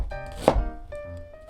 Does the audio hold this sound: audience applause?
no